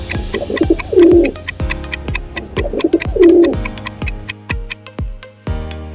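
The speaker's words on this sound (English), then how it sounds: "Yes, it's a pigeon." A pigeon coos twice in soft, low, throaty rolling phrases, close by, over a ticking rhythmic music bed; no one speaks.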